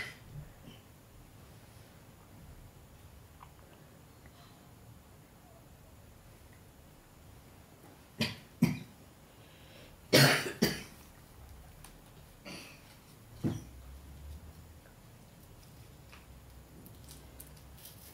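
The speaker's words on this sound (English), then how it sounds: "If you need to cough, please cough." A few scattered coughs and throat clearings from audience members at a Buddhist Dharma talk in a quiet room, spaced irregularly with long stretches of near silence between them.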